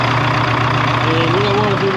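A Detroit 453T diesel engine in a 1976 Ford F250 idles loud and close, giving a steady low rumble with a rising whine near the end.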